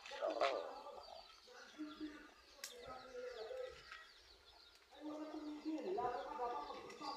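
Chickens clucking and cooing over an outdoor background, with people talking nearby and a brief high chirp partway through.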